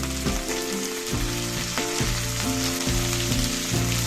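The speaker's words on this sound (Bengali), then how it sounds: "ফুলকপিগুলো দিয়েও একটু ভাজা ভাজা করে নেব" Long cut cauliflower pieces frying in oil for a white cauliflower and potato curry, with a constant crackling sizzle and repeated clanks and scrapes of a spatula stirring them.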